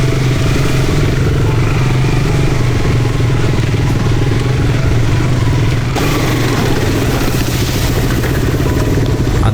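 A trail motorcycle rides a muddy, rain-soaked forest track in the Kalimantan jungle, its engine droning loud and close without a break, with slight shifts in pitch and a clattering, rough edge.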